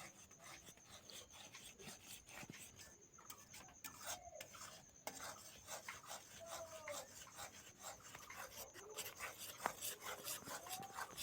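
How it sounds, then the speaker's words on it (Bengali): Thickened milk, made from powdered milk for a sandesh sweet, scraped and stirred in a pan at home, giving steady soft rasping strokes throughout, fairly quiet with no talk. "দুধটা কতটা ঘন হয়ে গেছে এইভাবে ভালো করে নেড়ে নিতে হবে"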